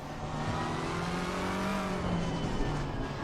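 Race car engine in the Assetto Corsa Competizione racing game, droning steadily at high revs with a sustained harmonic whine throughout, loud and continuous with no talking.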